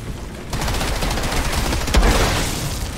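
Sustained rapid automatic gunfire in the video game Outriders, loud and dense, with a heavier boom near the middle.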